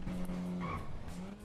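Car driving in a racing video game, a short stretch of engine hum with tyre squeal and a rising whine, quiet and steady as the car cruises along.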